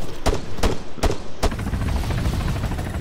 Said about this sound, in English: Is the helicopter ours?